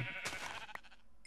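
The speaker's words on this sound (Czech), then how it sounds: "tady ještě ovce, tu tak ještě ťufnu" A single sheep in the Minecraft video game bleats once, short and faint, while the player hits it.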